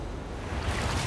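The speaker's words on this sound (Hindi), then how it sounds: "ये आई बड़ी लहर।" A big ocean wave rolling in at an island shore, a broad steady wash of surf and wind noise that swells slightly toward the end, heard alone.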